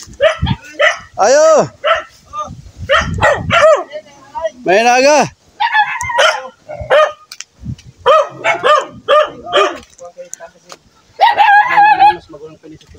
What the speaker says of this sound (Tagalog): Yung aso. Matapang.